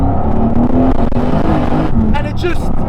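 A 1000hp turbocharged 6.6L LS stroker HSV ClubSport R8 accelerates on boost, its engine a loud, continuous roar filling the cabin while someone talks over it.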